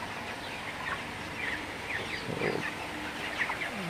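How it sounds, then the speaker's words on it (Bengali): Broiler chickens on a farm, grown and ready for sale, give scattered chirping clucks from a flock over a steady background hum. "আজকে আমার এই ব্রয়লার মুরগি রেডি হয়ে গেছে, কালকে বিক্রি করে দিব"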